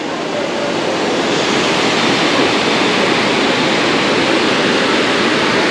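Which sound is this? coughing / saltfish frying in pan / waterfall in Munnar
waterfall in Munnar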